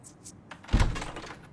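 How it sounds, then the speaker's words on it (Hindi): An indoor door opens with one close, solid thunk and a brief rattle of movement, with no talking over it. "दरवाजा खोल दोगी प्लीज?"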